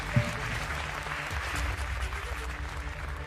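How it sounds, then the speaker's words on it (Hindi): An audience applauds to welcome a speaker at a ceremony honouring MSME businesses in Uttar Pradesh. The crowd claps steadily at moderate volume for a few seconds and then thins out. "बहुत जोरदार तालियों के साथ स्वागत श्री अविनाश पांडे जी का"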